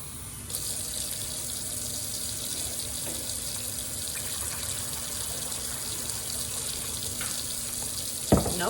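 Water pours into a container of rubbing alcohol for a homemade reusable ice pack, a steady close gushing stream that carries on evenly before ending with a sharp knock.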